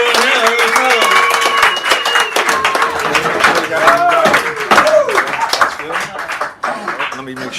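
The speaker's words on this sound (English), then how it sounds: "Give her a round of applause as she's up here." Clapping from a small audience at a San Francisco cafe poetry hour, steady throughout, with voices and music-like tones running over it.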